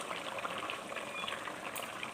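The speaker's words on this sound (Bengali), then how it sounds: "বাস এবার ঝোলে ফুটে উঠলে দিয়ে দেবো মাছ।" Vegetable curry broth boiling in a pot, a steady close bubbling and simmering with no talk.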